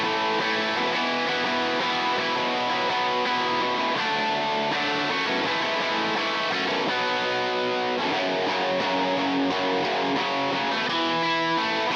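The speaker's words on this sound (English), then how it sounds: "I add my kind of deadly combo, which I always add to every amp, which is the compressor and the distortion pedal" An electric guitar played through a Kemper with a compressor and a Tube Screamer overdrive gives a dense, sustained, loud wall of gained-up chords that rings continuously without pause.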